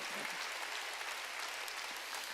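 Applause from a church congregation during a Korean sermon, a steady wash of many hands clapping at a moderate level throughout, with no break.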